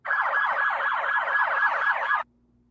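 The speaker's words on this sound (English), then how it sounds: "there were sirens going off" A police siren wails at a street protest with a heavy police presence, a loud, steady warbling tone rising and falling about eight times before cutting off abruptly.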